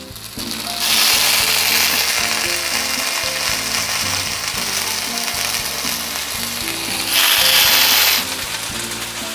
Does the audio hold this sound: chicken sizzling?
yes